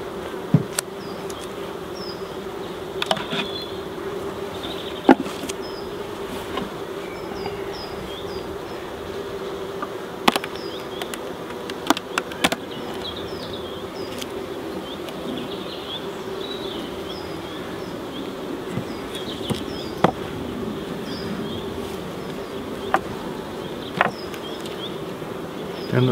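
A steady, close droning buzz of many honey bees in a hive continues throughout, with occasional sharp clicks and knocks and faint chirps in the background.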